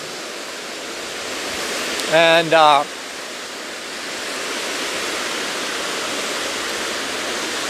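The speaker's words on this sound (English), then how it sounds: "So these waterfalls are about 1 kilometer long, like countless streams coming out of the lava field." Hraunfossar, many streams spilling from a lava field into a river, roars as a constant broad rush of falling water. A voice briefly speaks over it.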